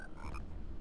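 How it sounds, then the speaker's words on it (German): A frog in a Harry Potter and the Philosopher's Stone game lets out a brief, close, throaty croak over a low, dense background rumble. "Hey, cool, ein Frosch."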